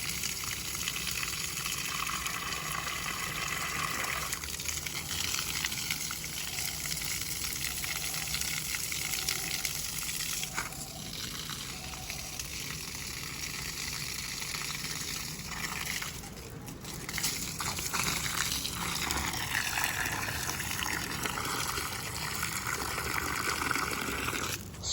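Water gushes and splashes steadily while a garden is being watered, a continuous loud hissing flow close by with slight shifts in intensity throughout.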